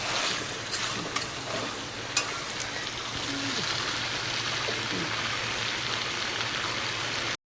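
Water added to a cooking pan of potatoes with pepper paste and spices, a steady close rushing, bubbling hiss that swells and holds for several seconds, with a few faint clinks early on and no talk.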